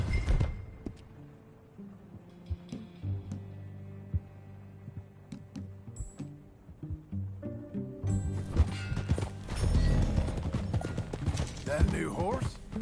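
Horse hooves clip-clop in a steady rhythm in the video game Red Dead Redemption 2, beneath layered game music and mechanical clicks, with the music swelling louder toward the end.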